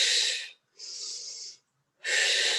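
Breaths during a postnatal Pilates exercise: three close, loud airy breaths, in, out and in, each about half a second long, separated by brief silences.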